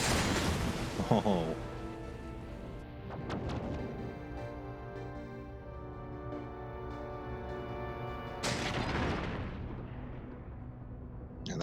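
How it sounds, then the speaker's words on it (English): Space battle in Endless Space 2 with torpedoes and weapons fire: heavy booming blasts with long rumbling tails, a burst at the start and another later, over a sustained tonal drone, with a brief voice. "Weapons platforms deployed, shields up. Torpedoes away."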